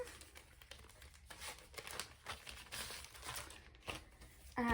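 Packaging crinkles and rustles up close in quiet, irregular bursts, with soft handling noises between them and a brief louder crackle at the very end.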